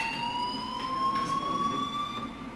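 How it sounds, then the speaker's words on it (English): A fire alarm in the video game Life Is Strange rings as a steady, slightly rising electronic tone, continuous and moderately loud, with no talking over it. "do you hear that fire alarm?"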